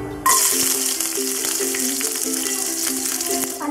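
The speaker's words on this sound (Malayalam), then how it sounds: "അതിലേക്ക് 1/2 ടേബിൾ സ്പൂൺ ഓയിൽ, അതിലേക്ക് 1/7 പീസ് വെളുത്തുള്ളി, ചെറിയ കഷ്ണം ഇഞ്ചി ചേർത്ത് കൊടുക്കാം." Garlic and ginger frying in hot oil in a pan, a loud sizzle that bursts in abruptly and then keeps crackling steadily and close throughout, with no voice.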